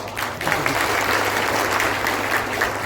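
Crowd applauding at a political speech in Bihar, a dense sustained wash of many hands clapping at steady loudness with no speech over it.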